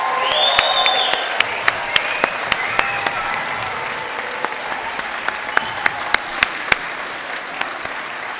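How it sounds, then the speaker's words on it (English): Crowd at a Highbury College morning graduation ceremony gives the graduates steady, sustained applause, with a brief whistle early on and sharp individual claps standing out above the wash. "Let's have another round of applause for the graduates."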